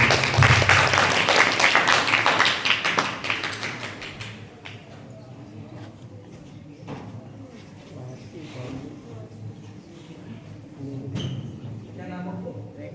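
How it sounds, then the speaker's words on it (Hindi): Applause at a Sant Ravidas katha religious gathering, a dense burst of clapping from a crowd for the first few seconds that thins into scattered claps and murmuring voices. "जोरदार तालियां"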